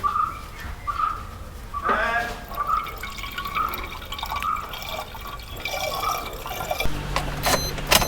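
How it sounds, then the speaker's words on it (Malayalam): Gabriel coolant is poured into the coolant reservoir of a Maruti Ertiga, a gurgling, dripping liquid fill close by, interrupted by clunks and handling noises, with birds chirping in the background. "ഗബ്രിയൽ എന്ന് പറഞ്ഞ കമ്പനിയുടെ കൂളൻ്റാണ് നമ്മൾ യൂസ് ചെയ്യണത്"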